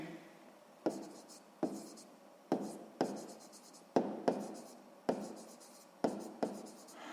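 Pen strokes on paper while a 6th-grade math percentage exercise is written out by hand: a steady series of sharp scratchy onsets, roughly one per second, each trailing into a short rub, close and fairly quiet, with no voice.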